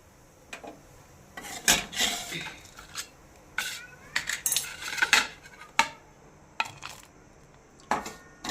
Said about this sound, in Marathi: ही परतून झालेली चटणी मी एका प्लेटमध्ये काढून घेते